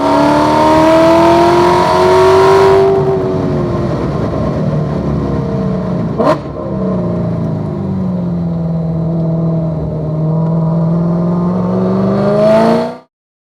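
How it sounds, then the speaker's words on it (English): A race car roars at wide open throttle down the back straight at M1 Concourse, its pitch sweeping up and down through gear changes, loud and close for most of the stretch. "we're wide open throttle down the back straight"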